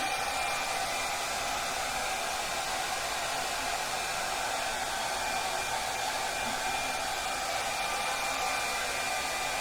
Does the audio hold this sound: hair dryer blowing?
yes